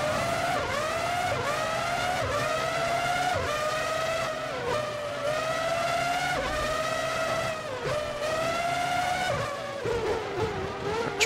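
Formula One cars in the PS2 game Formula One 03 at Monaco howl continuously with high-revving engines, pitch rising and dropping through gear changes as cars jostle through corners, loud and up close throughout.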